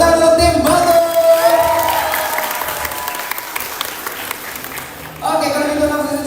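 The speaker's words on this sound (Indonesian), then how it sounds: "Tepuk tangan untuk tim Batur." Applause and cheering from a fan-meeting audience for team Batur, a dense, steady wash of clapping with a few whoops that fades mid-clip and swells again near the end, with a host's voice over the start.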